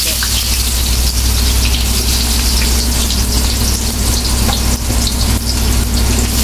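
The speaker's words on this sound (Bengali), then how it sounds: "5 ফোড়নটা ভালো করে ভেজে নিল ফুপু, এখন পেঁয়াজ দিয়ে দিচ্ছে।" Onions hit hot oil already crackling with five-spice seeds in a pan for a prawn and taro curry, giving a steady, dense, close sizzle that holds evenly throughout with no voices.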